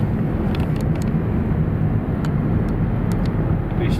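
At Munich airport, the King of Thailand's jet makes a continuous, loud, broadband roar that holds steady with no speech.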